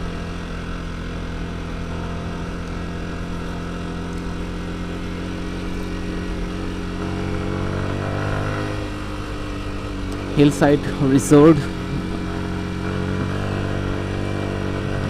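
Motorbikes speed past on a hilly road in Bandarban, Bangladesh, with a steady engine drone and a brief louder burst as one rushes by close, while someone talks over the ride.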